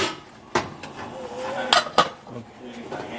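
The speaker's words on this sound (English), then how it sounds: "Put the lid on." A metal lid set onto a pot of boiling tomato sauce jars, giving a few sharp clanks and clinks in a kitchen, with a brief voice in the background.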